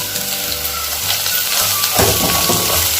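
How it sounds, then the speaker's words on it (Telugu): Amaranth leaves stir-frying in a pan with carrot and capsicum, a steady close sizzle with stirring scrapes that thicken and grow louder about two seconds in, no voices. "వెజిటేబుల్స్ అన్ని ఫ్రై అయిపోయిన తర్వాత ఒక తోటకూర కట్ట తీసుకొని సన్నగా తరుక్కొని వేసుకోవాలండి"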